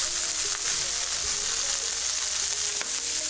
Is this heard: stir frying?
yes